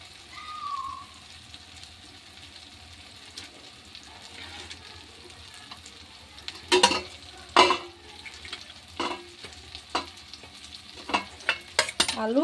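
Potatoes tipped into a pan of softened tomato masala for a Bengali egg curry, setting off a run of sharp sizzles and stirring clatters that grow busier in the second half, close and fairly loud with no talk.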